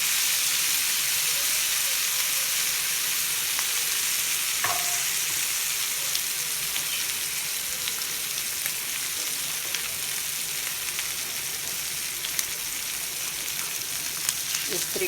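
Chicken fries on a flat tawa for a street-style dish, giving a steady, soft, continuous sizzle and hiss that stays even and fairly quiet throughout, with no talking over it.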